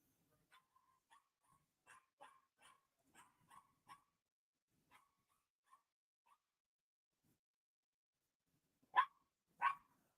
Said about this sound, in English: I'm talking massive puppy meltdown in the other room